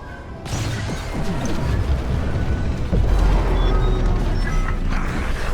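A reactor core explodes after a bomb drop in the Star Wars Squadrons game: a sudden crashing blast opens into a long, loud rumble with cascading debris impacts and a second heavy surge midway, no voices present.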